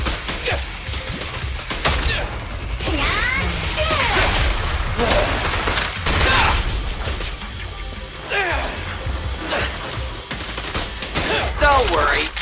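Rapid bursts of gunfire and impact crashes from the Zenless Zone Zero video game repeat in loud volleys over about twelve seconds, mixed with game effects and a character's voice speaking.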